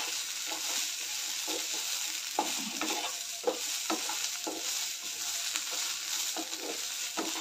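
Cluster beans (guar) roasting in a hot pan until browned, giving a continuous dense sizzle with frequent soft stirring scrapes throughout, close-up and without speech.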